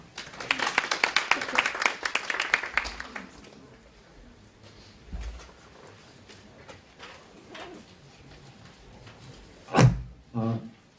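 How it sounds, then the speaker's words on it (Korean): Conference attendees at a Korean tech talk give a burst of clapping to welcome the Buzzni CEO to the stage; the applause fades after a few seconds into quiet room noise with a few soft knocks. "힘찬 박수로 맞아주십시오"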